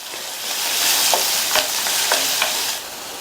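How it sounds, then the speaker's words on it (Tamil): Chopped onion sautéing in hot oil in a pan, a steady soft sizzle with several brief scraping stirs of a spatula, no talking. "ஒரு சின்ன சைஸ் பெரிய வெங்காயத்தை பொடியா கட் பண்ணி சேர்த்து இந்த வெங்காயம் அதனுடைய கலர் ஓரளவு மாறி வர வரைக்கும் வதக்கிக்கங்க."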